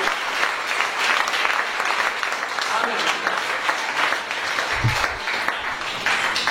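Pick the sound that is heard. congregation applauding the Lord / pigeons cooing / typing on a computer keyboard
congregation applauding the Lord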